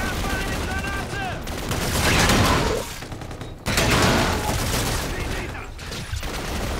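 Sustained automatic gunfire in Call of Duty: Infinite Warfare, loud rapid bursts that cut off abruptly and resume, with a brief gap in the middle and a fading tail at the end.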